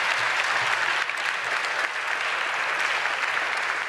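A hall audience applauds a prize winner at a comic-book award ceremony, producing a continuous, fairly soft wash of many hands clapping at a steady level with no speech.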